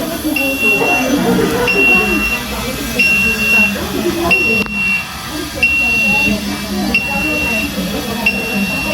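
A temperature controller's buzzer alarm sounds once set to 28 degrees, beeping in a steady repeating pattern of short high tones, loud and close, while people talk underneath.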